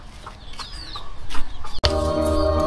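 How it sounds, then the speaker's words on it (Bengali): Chickens in a village courtyard cluck and call in short bursts close by, then a sustained louder squawking hen call near the end, with no talking. "মুরগিগুলো যে কি করে এদিকে।"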